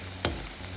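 A soft, steady sizzle of onions frying in a pan, with one sharp clink of a utensil stirring near the start.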